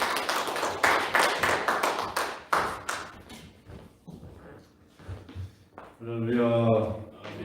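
Hand claps from a church gathering welcoming a pastor to a lecture, a burst of scattered applause up close that fades out, then a voice speaks briefly near the end.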